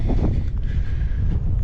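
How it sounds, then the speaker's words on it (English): Wind gusting across an open farm field on a sunny day at canola planting time, a steady low rumble of buffeting against the microphone that runs unbroken through the whole moment. "it's sunny out, it's windy out"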